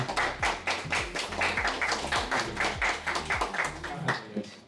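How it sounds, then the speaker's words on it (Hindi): An audience at an office Eid celebration claps in a steady, rhythmic pattern of close, fairly even hand claps that runs through the whole stretch at moderate loudness. "तालियां और बजाओ।"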